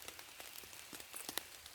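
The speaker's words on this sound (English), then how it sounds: "Get out of this rain." Light rain falling on a back-garden camp, faint scattered patters and drips in an irregular rhythm, alone with no voices.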